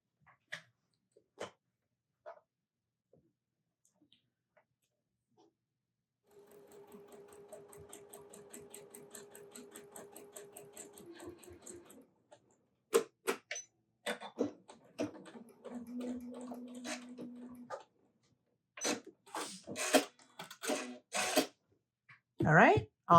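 A sewing machine runs steadily for about five seconds while stitching the middle of a snowman quilt block, then stops; scattered handling clicks and brief talk follow, with a second short hum and later snips and rustling.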